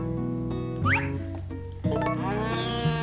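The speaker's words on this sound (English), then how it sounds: "Cow always causes trouble." Cartoonish farm-game cow calls from Harvest Moon: A Wonderful Life, a few short bright animal cries with rising sweeps sitting over steady looping background music, fairly loud and close.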